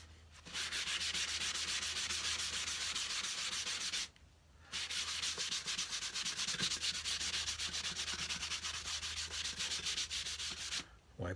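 Finish is wiped onto a wooden cigar box with a cloth, a continuous close scrubbing rub in long passes, pausing briefly twice before resuming, with no talking.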